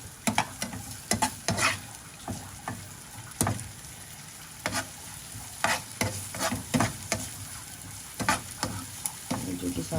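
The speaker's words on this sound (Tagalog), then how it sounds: "Igisa na natin yan. Halo natin yan lahat." Corned beef sautéing in a pan, with a soft continuous sizzle broken by repeated spatula scrapes and stirring bursts at an uneven rhythm, close and alone.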